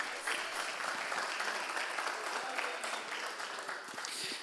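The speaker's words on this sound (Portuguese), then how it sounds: "dar uma linda salva de palmas para Jesus" A church congregation claps together in steady, sustained applause filling the room, a dense wash of hand claps lasting several seconds with a faint voice underneath.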